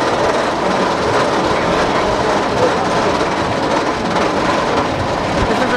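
The red train on the Goliath ride roars along its track with a loud, steady rumble and rattle that persists without letup, close by.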